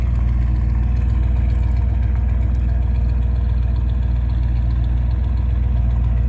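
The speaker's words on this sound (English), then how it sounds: "I put exhaust on it about 5 years ago. Just single factory exhaust." A 1963 Cadillac Sedan Deville with a single factory exhaust idles steadily nearby, a deep, even engine rumble with a regular low pulse and no voices.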